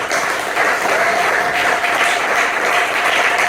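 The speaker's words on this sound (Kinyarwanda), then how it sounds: "Mumfashe tuyikomere amashyi menshi." Strong, continuous applause from a church crowd at an outdoor gospel gathering in Uganda, many hands clapping loudly and evenly with no talk over it.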